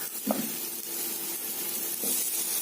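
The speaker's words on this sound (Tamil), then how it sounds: "மொறுமொறுன்னு தோசை இருக்கிறதுக்கு 2 பக்கம் ஃப்ரை பண்ணிட்டோம்" Mysore masala dosa crisping on a hot pan after being fried on both sides, giving a steady soft sizzle with faint scraping touches throughout.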